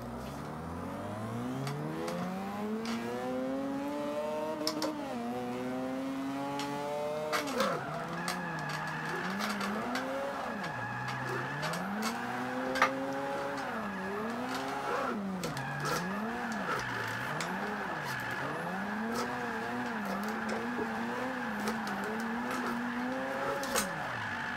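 A Mazda RX-7 drifts in the Forza 5 racing game, its engine revving up and down in steady waves through repeated gear changes, with tire squeal running under it for the whole stretch and no talking.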